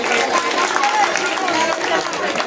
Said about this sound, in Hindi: तालियां इन बच्चियों के लिए।